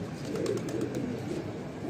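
Low, rolling coos from pigeons in a Bhopal breeding loft, several birds overlapping in a steady murmur at close range.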